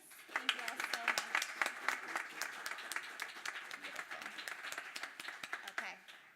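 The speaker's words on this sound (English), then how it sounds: "Let's give all of our individual award winners a big round of applause." A crowd at the Summer 2017 PVSA awards ceremony claps for the individual award winners, a lively patter of many hands with distinct claps, steady for several seconds before tapering off.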